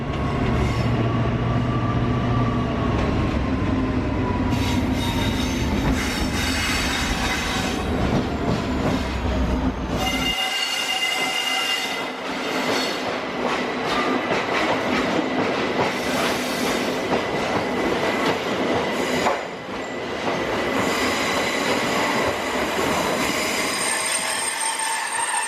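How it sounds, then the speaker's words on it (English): Trains at Clapham Junction, a through passenger service and a freight train, rumbling past close by with sustained wheel noise, metallic squeals and clattering over the rails, loud and continuous throughout with no voices. "your last little look at a through passenger and this freight again"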